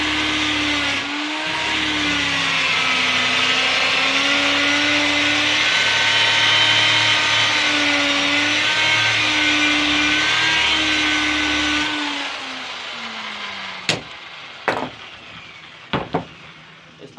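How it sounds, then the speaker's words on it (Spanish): A power sander grinds steadily across a wooden coffee table, a loud, continuous whir that wavers in pitch for about twelve seconds, then winds down into a few sharp knocks. "lijadora"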